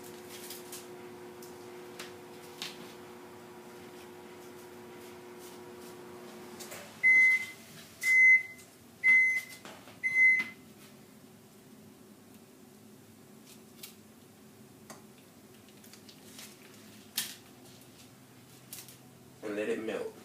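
A microwave oven heating a grilled cheese sandwich hums faintly for several seconds. It then gives four short, evenly spaced beeps near the middle, with soft kitchen handling noises after.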